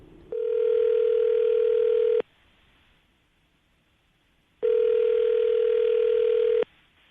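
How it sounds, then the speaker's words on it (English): A telephone ringback tone: two long, steady buzzing rings separated by a couple of seconds of near silence, loud and close. "we're gonna give him a call right now."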